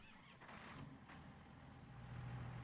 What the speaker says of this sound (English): You can hear the engine sounds fairly good as we turn our lights on.